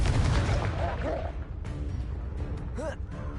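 Confringo blasting spell cast in Hogwarts Legacy, loud booming blasts and crackling impacts, strongest at the start and tapering, with a voice calling out briefly partway through.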